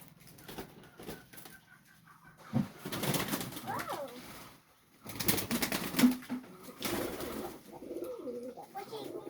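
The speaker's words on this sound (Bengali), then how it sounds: "দেখতে পাচ্ছেন এই কবুতর ময়ূরী কবুতর" Fantail pigeons coo after a bath in a few soft, low, throaty bursts. Wing flutters and rustling come and go between them, and faint voices sit in the background.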